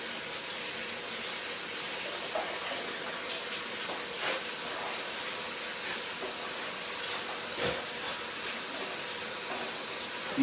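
Tap water runs steadily over freshly cut-up coconut pieces being washed, a constant close hiss with a few light knocks and splashes on top.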